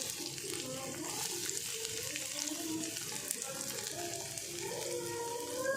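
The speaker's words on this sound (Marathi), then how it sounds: "कांदा चांगला परतून घ्यायचे" Onion frying in a pan with ginger-garlic paste in hot oil, a soft continuous sizzle with faint stirring scrapes, steady and close but low in level, no talking.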